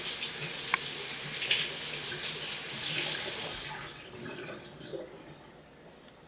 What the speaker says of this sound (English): I'm going to go to the sink and wash it off